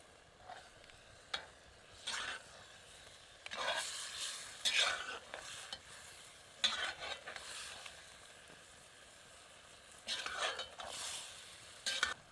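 Pahadi mutton curry being stirred with a ladle as it fries in a village kitchen: repeated scraping ladle strokes in irregular bursts over a low, steady sizzle, close and fairly quiet, with a faint murmur of voice.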